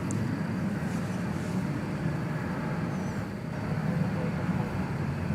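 American Airlines flight 1205 departs DFW Airport at night, a distant, steady jet roar rumbling low under faint background noise, no close voices.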